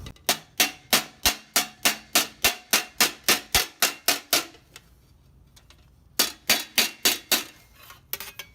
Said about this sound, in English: As I lay the wire in, I'm just hammering it over.